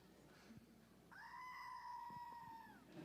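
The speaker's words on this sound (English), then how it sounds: "You can hear that screaming goat." A screaming goat toy button on a desk lets out a single long, wavering bleat-like scream lasting well over a second against a quiet, faintly noisy room.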